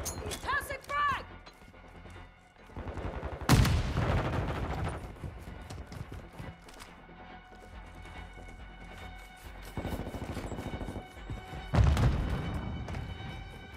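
Gunfire bursts and a frag grenade blast in Call of Duty: Modern Warfare II, rapid shots rattling throughout with two heavy thumping explosions, loud and close, while voices call out over the battle.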